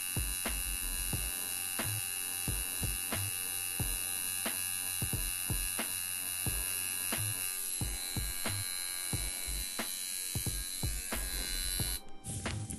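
A Wormhole shader tattoo machine runs loud and steady with a mains-like hum, with regular sharp clicks in a repeating rhythm throughout and no voices.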